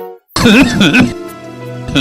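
A harsh, voiced cough and throat-clearing fill a cough syrup advert, loud and close, one strained burst trailing into a rough hum and a brief second rasp at the end.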